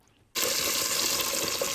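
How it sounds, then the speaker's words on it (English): Meatball sauce pours into a cooking pot, starting abruptly and continuing as a steady, close, hissing rush of liquid. "Now we're going to pour that wonderful sauce in our pot."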